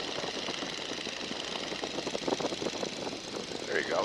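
A 1942 Boeing Stearman biplane's radial engine being throttled back from about 1,600 to 1,300 RPM, a steady, dense drone with a rough rhythmic pulse that stays loud and continuous throughout, with faint voices underneath.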